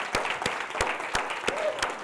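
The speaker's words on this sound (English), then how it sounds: "We're going to give Julie and the team a clap." Audience applause at a business talk on onboarding, heard as a steady series of sharp, evenly spaced claps ringing out together in a room for about two seconds.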